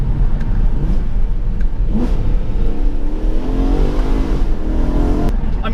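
BMW E92 M3 V8 on its stock exhaust, in M mode, revs up close and loud, its steady deep drone rising into a swelling, climbing rev around the middle before settling.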